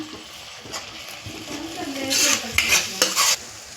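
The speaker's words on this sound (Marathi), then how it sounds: "चांगलं परतून घ्यायचं आहे." Ground spices being stirred and fried in a pan for a vegetarian shev bhaji curry, with scraping strokes of a spoon against the pan over a steady sizzle, loud and close, with no talking.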